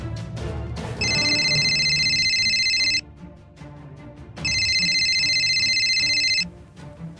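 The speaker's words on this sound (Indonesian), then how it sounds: "ada telepon nih" A telephone rings in two long bursts of bright electronic trilling with a pause between, loud and near over a steady background hum, with no speech.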